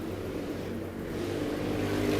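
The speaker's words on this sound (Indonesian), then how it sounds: "Berisik banget tuh motor" A loud motorbike passing on a street, a steady rough engine rumble that grows slightly louder toward the end, heard from nearby with no talking.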